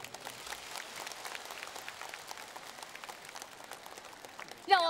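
Applause from an audience at a Buddhist dharma talk in Hong Kong, a soft, distant wash of clapping that continues throughout, with a brief voice near the end.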